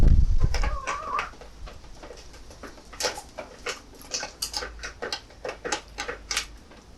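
Chickens, among them a white Coronation Sussex rooster, peck at rice spread on bucket lids outdoors, giving rapid close pecking taps and soft clucks and coos in an uneven rhythm.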